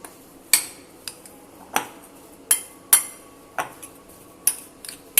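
A spoon taps and scrapes in a bowl while salt and chaat masala are mixed, making about nine sharp, evenly spaced metallic clinks that are close, fairly loud and heard alone.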